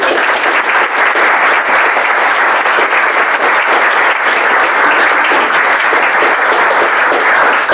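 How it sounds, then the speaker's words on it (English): A large audience at a Job Shadow Day event gives a loud, sustained round of applause for the organizers and hosts, dense clapping that holds steady throughout without a break. "Can I get a round of applause for all these amazing people?"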